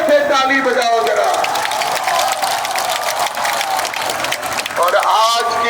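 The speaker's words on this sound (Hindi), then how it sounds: "प्रत्याशी भाई रितेश पांडे के लिए जोर से ताली बजाओ जरा।" Loud crowd applause and cheering fill a political rally in support of a candidate, sustained and dense throughout with a spoken voice audible over the clapping.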